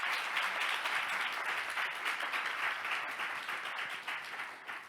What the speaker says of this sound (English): So a big applause to our panelists.